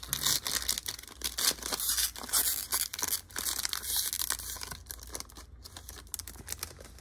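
A single 2021 Onyx vintage college football card pack being cut open with scissors, giving close, crisp tearing and crinkling of the foil wrapper in irregular bursts over about seven seconds, with no talking.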